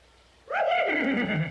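A cartoon horse gives a single loud, drawn-out whinny that starts abruptly after a short quiet lead-in and holds strong to the end, with no talk over it.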